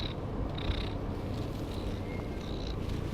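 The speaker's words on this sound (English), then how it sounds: "Purring is one of those behaviours that's familiar to all cat owners." A cat's steady, low rumbling purr continues close by, with faint high-pitched squeaks drifting in and out above it.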